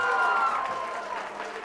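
Applause on a televised Catalan word-spelling quiz show, a short burst of clapping that swells loud at first and then thins out over under two seconds, with a voice talking over it.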